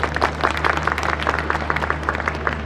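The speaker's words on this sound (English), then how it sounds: "a round of applause to them" An audience at a child-wellness campaign event claps for a team: a short, dense burst of applause, fairly loud and close, with a low steady hum beneath and no talking.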